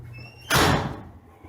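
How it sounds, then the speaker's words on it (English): A door slams shut with one loud, sharp bang that fades quickly, heard close and alone. "Slamming door."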